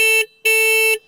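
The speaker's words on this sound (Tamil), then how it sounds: "இது ஹாரன் சவுண்ட் கேட்போமா" Two loud, bright horn blasts from a 2025 Bajaj Pulsar 125 motorcycle close by, a short honk then a longer held one, with nothing else around them.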